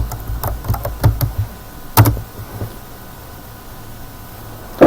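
Someone types a value into a vertical axis box of an Excel chart on a computer keyboard. A quick cluster of crisp keystrokes comes first, then a pause, then more clicks, with one last tap at the end.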